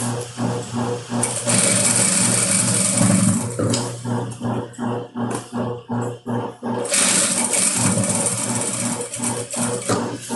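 A sewing machine runs continuously, stitching patchwork fabric for a crazy-technique toiletry bag, with a loud mechanical whir broken briefly by a stretch of short start-stop bursts before running steadily again.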